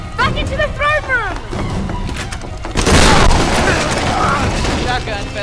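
A shotgun firing in the Tomb Raider video game, a loud boom that bursts in midway and leaves a dense roar of game effects, after earlier tonal game sounds.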